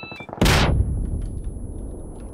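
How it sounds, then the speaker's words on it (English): A sticky bomb detonates in PUBG on the Karakin map, a sudden loud broadband blast that cuts in sharply and then decays into a long, rumbling tail of debris and echo. "let's just try this sticky bomb"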